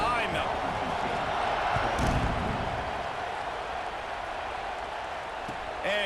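Stadium crowd noise from an American football video game, a broad steady roar of fans swelling slightly around a kickoff, with commentary talking over it.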